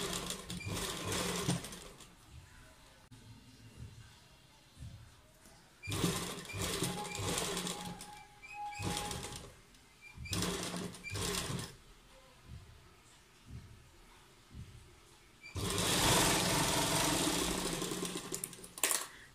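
A sewing machine stitches the hem of plazo pants trimmed with potli buttons, running in several loud bursts of rapid whirring with pauses between, close by.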